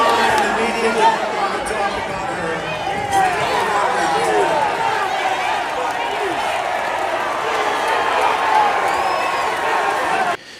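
A large, agitated crowd at a Trump rally, a dense, continuous roar of shouting and overlapping voices with scattered cheers and claps, steady and loud throughout before cutting off abruptly at the end.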